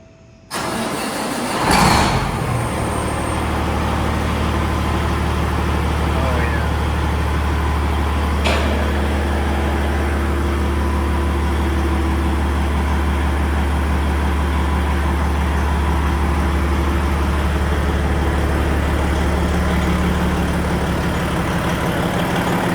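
Peterbilt 389 truck engine fires up and settles into a steady, deep, loud idle rumbling through its stacks, a continuous low drone with a brief rev near the start and no voices.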